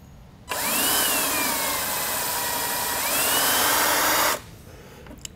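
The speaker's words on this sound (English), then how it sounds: "I've got a nice transfer mark right here for me to drill." A power drill bores a hole in a heavy-duty motorcycle axle adjuster, one steady high whine lasting about four seconds with slight pitch shifts under load, close and loud, then stopping abruptly.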